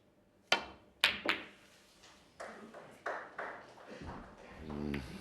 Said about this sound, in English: Hit it so bad that left-hand side just pushed the cue ball into the red.